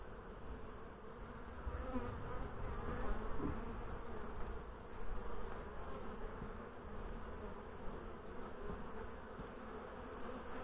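Honey bees fill an open hive during a late-September inspection with a steady, dense buzzing drone that stays close and constant throughout, with no talk over it.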